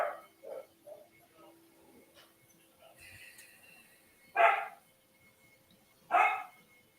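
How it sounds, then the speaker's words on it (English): A dog barks indoors during a quiet meditation session, a few soft yips at first, then two louder, sharp barks spaced well apart against near silence. "distractions like my dog's barking or your dogs or your pets"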